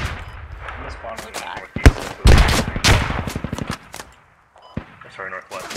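Rapid automatic gunfire bursts in the video game Squad, loud cracking volleys clustered in the middle with sharp single shots around them, players talking over the firing.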